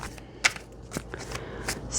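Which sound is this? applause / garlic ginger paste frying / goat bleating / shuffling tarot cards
shuffling tarot cards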